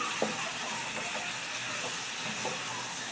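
A pumpkin and potato curry sizzles and hisses steadily in the pan after a little water is added, a continuous soft frying sound with a few faint clinks.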